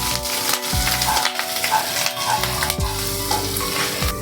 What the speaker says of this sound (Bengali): আদাটা দিয়ে ভালো করে আমি কষিয়ে নেব।